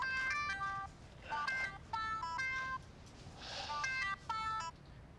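Touch-tone telephone dialing beeps arrive in three quick clusters of short, clear tones, close and distinct against a quiet background.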